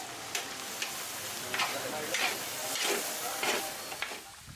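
Sliced beef innards and black beans are stirred in a hot pan with a steady sizzle. A utensil scrapes in rhythmic strokes close by, and a voice is faintly heard.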